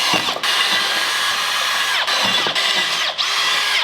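A power drill grinds steadily through a metal brake rotor, a high whining bite that pauses briefly a few times before biting in again, close and loud.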